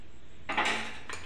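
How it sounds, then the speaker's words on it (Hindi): Dhokla batter being whisked in a bowl with a spoon, stirred in one direction: two short bursts of scraping and clinking strokes, the first longer, close and fairly quiet against a still room. "ये देखिए, इसी डायरेक्शन में हमें फेंटना है।"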